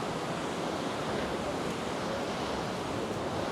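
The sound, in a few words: rough sea waves breaking on the shore at Paguera, Mallorca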